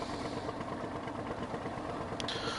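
A truck engine from the video game Snowrunner drones steadily as it manoeuvres, a low continuous rumble at moderate level with no break.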